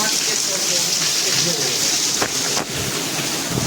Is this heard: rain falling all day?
yes